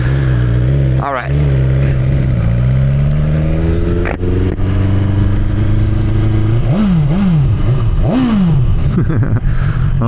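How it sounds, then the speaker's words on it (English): A BMW S1000XR M Package sport-touring motorcycle runs loud and close, its engine idling and then revving in several sharp rising and falling bursts, with a harsh clatter in the exhaust. "I'll turn the bike on and kind of do a walk around so you can hear it"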